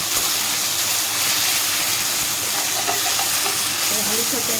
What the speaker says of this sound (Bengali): আলুটাকে এইভাবে লাল করে আমি পুরোটা আলু ভেজে নেবো